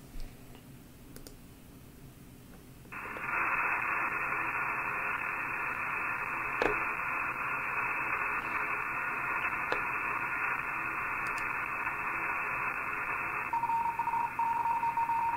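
A CW Morse code tone comes over amateur radio through EchoLink. It is a steady, fairly loud beep that holds for about ten seconds over a faint hiss of noise, with occasional clicks.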